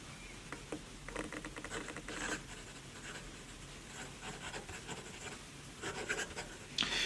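A fountain pen filled with P.W. Akkerman Delfts Blauw ink writes on lined paper, producing faint, close, irregular scratching strokes with short pauses between words in a quiet room.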